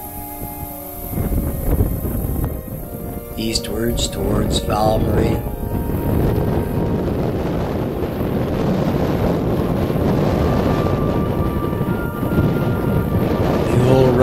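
Strong wind gusting across open glacial moraine country near Bracken, Saskatchewan, a steady broadband roar and buffeting against the microphone throughout, with someone narrating over it.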